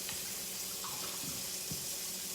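A kitchen sink filling with water from the tap, a steady hissing gush of running water with small splashes and gurgles, quiet and continuous with no talking.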